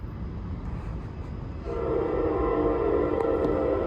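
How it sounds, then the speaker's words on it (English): A Norfolk Southern freight train, the P09, heading northbound, with a low rumble that grows as a sustained horn sounds in the distance. "Next train, P09 northbound."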